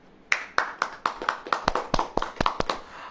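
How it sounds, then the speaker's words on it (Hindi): Rhythmic hand clapping by a church congregation during a sermon, about a dozen sharp, evenly spaced claps in a loose beat, close and distinct with nothing else prominent. "ताली बजाओ।"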